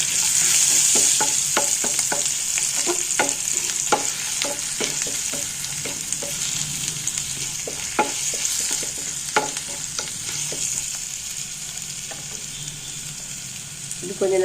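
Chana dal roasting in a pan for karakuzhambu, stirred with a spatula in a quick run of scraping strokes over a steady sizzle, close and fairly loud, with the stirring thinning out toward the end.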